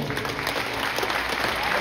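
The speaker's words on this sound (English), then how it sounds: "give them a big round of applause" Audience at a school moving-up ceremony clapping steadily in a dense, continuous round of applause, alone without talk.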